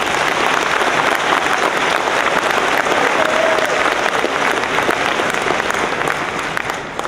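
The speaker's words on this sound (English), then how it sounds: "I would like to give Jackson a big round of applause for emceeing tonight." A high school graduation crowd gives a sustained round of applause, thick and even throughout, loud and close, with faint voices mixed into the clapping.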